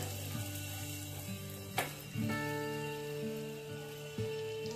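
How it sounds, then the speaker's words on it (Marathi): Cashew and almond pieces fry in ghee for sweet vermicelli, making a steady, close sizzle under a faint tonal hum, broken by a couple of short clicks or scrapes. "आता आपण काजू बदामाचे तुकडे टाकून घेऊ। त्यांना मस्त असं तळून घेऊ लाल होईपर्यंत।"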